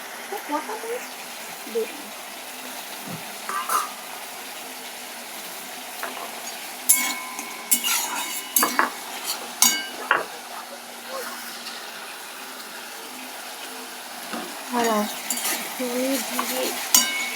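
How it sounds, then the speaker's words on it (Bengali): Coriander-cumin powder being stirred in a pan brings soft sizzling with scattered metal spoon scrapes and clinks against the pan, and voices talk intermittently over the cooking. "ধনে জিরেটা দিয়ে ভালো করে নাড়াচাড়া করে নিচ্ছি"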